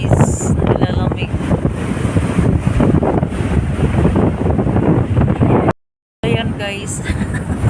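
Strong seaside wind buffets the microphone in a steady, heavy roar, with a voice speaking over it and a brief dropout near the end.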